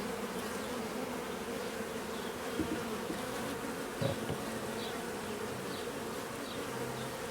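A dense, steady hum of honey bees buzzing during a bee package installation, with a few faint knocks and handling thumps underneath.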